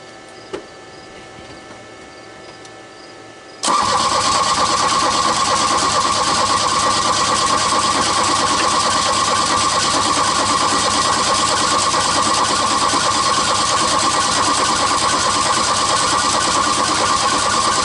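A rebuilt Volkswagen Rabbit engine cranks quietly for a few seconds, then fires up abruptly and settles into a loud, steady running idle nearby that continues without a break.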